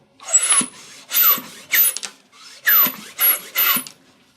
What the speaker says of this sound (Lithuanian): Mes čia turime tokią netgi specialią pompą Fischerio.